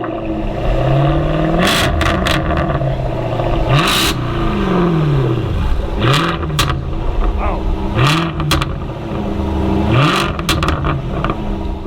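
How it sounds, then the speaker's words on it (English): A Jaguar F-Type's exhaust revs repeatedly on starting up, each loud throaty surge rising and falling about every two seconds, close by. "letting us hear that sweet sound of that exhaust?"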